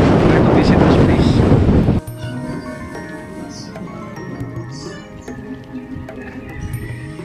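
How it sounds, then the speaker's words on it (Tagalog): Strong wind at a sunflower farm in Tagaytay, a loud roaring buffet on the microphone for the first two seconds that then drops to a lower steady rush with background voices. "Very windy talaga dito sa Tagaytay."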